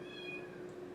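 A pet cat meows indoors in a single drawn-out, tonal cry, close and fairly quiet, with no talk over it.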